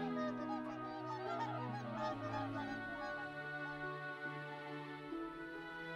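A goose in the city-building survival game Settlement Survival honks in drawn-out, nasal calls that repeat across the stretch, moderately loud and close, with no talking over them.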